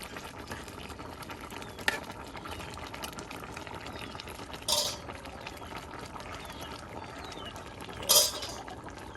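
Rui fish and bottle gourd curry simmering in a pot over a rural fire, a constant low bubbling under faint hiss, with a few brief clinks of a utensil, close and even.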